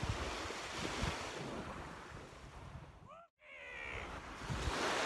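Ocean waves washing onto a Bahamas island beach, a continuous close surf rush with wind buffeting the microphone, cut by a brief dropout near the middle before the surf resumes.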